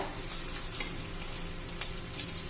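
Garlic frying in hot oil for a chili pickle, a close steady sizzle with a couple of sharp crackles and pops standing out.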